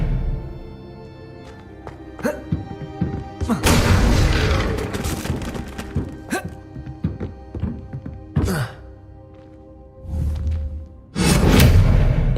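Spell casts from Hogwarts Legacy, a wizarding video game: several sharp whooshing bursts and booming thunks that come in irregular bursts over a steady hum of game music and ambience.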